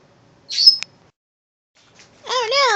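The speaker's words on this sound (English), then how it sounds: "Oh, bird fight, bird fight, bird fight." Pet birds squawk while fighting indoors, giving a sharp high squawk, then a pause, then a harsh rising and falling call, close by in a quiet room.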